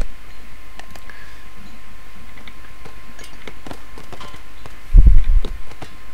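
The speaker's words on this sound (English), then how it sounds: "You can see that Mythus' horse has just discovered the Yves base" Horse hooves clip-clop in the real-time strategy game 0 A.D. on the Persian Highlands map: light, faint ticking steps over a steady game ambience, with a heavier thudding burst near the end.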